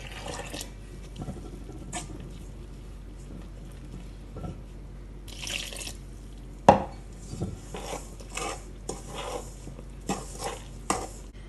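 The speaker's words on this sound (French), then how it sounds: "Je mélange le tout. Et je rajoute petit à petit l'eau tiède." Msemen (meloui) dough being mixed by hand in a bowl as lukewarm water is added little by little, with soft, irregular stirring and dabbing noises, a few sharper knocks, and faint drips, close up with no talking.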